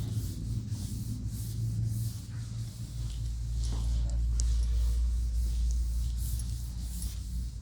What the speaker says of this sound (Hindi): अब यहाँ पर स्पेस नहीं है तो हम इसको रब करके लिख देते हैं।